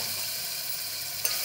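Turmeric and ginger-garlic paste sautéing in oil for matki usal, a faint steady sizzle heard close with a single brief scrape near the end.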